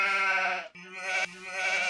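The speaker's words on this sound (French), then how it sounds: "Donc ici il va y avoir un petit peu de mouton." A sheep in Age of Empires 2 gives a short nasal bleat, then a second clipped bleat after a brief break, close and clear with no talk.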